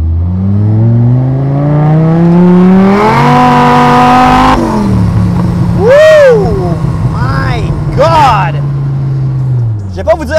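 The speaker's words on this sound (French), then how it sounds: "si je baisse un petit peu la fenêtre, j'entends très bien, mais très bien l'exhaust" Supercharged Dodge Viper SRT-10 exhaust heard from inside the car with a window cracked, a loud steady drone rising as it revs, then dipping and holding under a burst of louder bursts and overlapping talk throughout.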